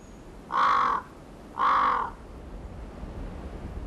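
Crows near the Tumen (Dumangang) river give two loud, harsh caws about a second apart, each lasting roughly half a second, against quiet outdoor background.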